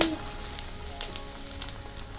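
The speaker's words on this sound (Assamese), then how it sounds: "গাহৰি উতলি গ'ল" Pork boiling over in a pot at a backyard picnic, a soft steady sizzle with small crackling pops scattered across the clip, close and moderately quiet.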